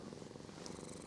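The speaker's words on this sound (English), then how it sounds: "cat on my knee, so if you can hear purring in the background" A contented cat purrs steadily while resting on a person's lap, a soft continuous rhythmic rumble heard close up with no talking.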